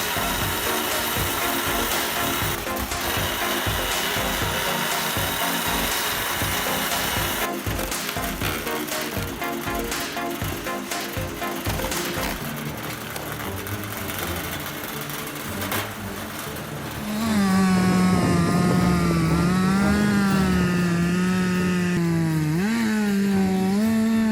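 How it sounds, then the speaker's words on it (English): A loud 70-horsepower chainsaw engine roars steadily, its pitch rising and wavering as it bites into a big tree, continuous and close throughout. "The steel chainsaw is fired up, its powerful 70 horsepower engine roaring with authority."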